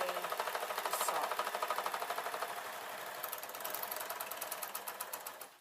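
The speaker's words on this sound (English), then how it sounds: "all I'm doing now is sewing the 2 sides of the fur that are going to be the sock" An overlocker serger sews two sides of fur fabric for a Christmas stocking, giving a fast, steady mechanical chatter with a regular stitch rhythm, close and continuous before it stops abruptly at the end.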